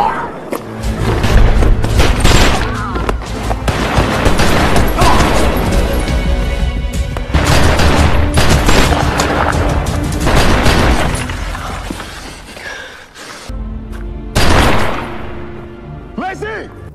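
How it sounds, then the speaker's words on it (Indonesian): A dense movie shootout with heavy gunfire, booms and crashing impacts that run almost continuously and loudly, mixed with a dramatic score and a narrator speaking over the action. "memaksa mereka untuk saling menembak"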